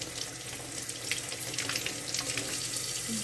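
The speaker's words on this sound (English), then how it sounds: "So what I want to do first is go ahead and wash my potatoes off. Just rinse them off really good." Continuous tap water runs and splashes over sweet potatoes being rinsed in a kitchen sink, fairly faint and steady with light bumps from the potatoes.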